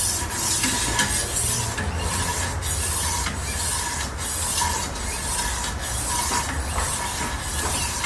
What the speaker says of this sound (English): Diamond stones is also real nice because it cuts a lot faster than a whetstone.